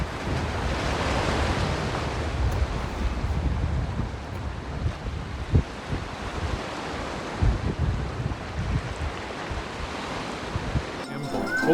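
Ocean waves surge and wash below the end of a pier, a continuous loud rush mixed with heavy wind buffeting the microphone, with a few low thumps and faint voices in the background.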